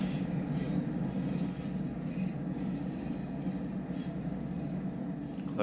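Heavy, steady rumble of an ES44C4 diesel locomotive hauling a long freight train on Cajon Pass in Train Sim World 3, loud and continuous throughout with a dense low drone and no pauses.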